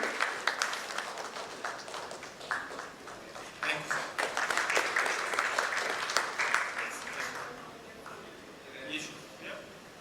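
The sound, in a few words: audience applause for a panelist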